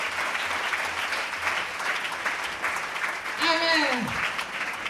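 A church congregation applauds during a French-language worship service, dense clapping sustained throughout, with voices and a brief rising vocal cry near the end.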